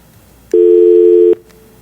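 A telephone line gives a single steady electronic tone lasting under a second on a call-in radio show as a caller's connection fails, loud and clear against a quiet background.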